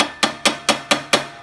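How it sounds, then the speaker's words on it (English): A hammer taps five times at a steady rhythm against the bed knife of a McLane/Sears reel mower during backlapping, each strike a close, sharp metallic clink with a short ring. "Now you're going to take a hammer and you're going to slightly tap"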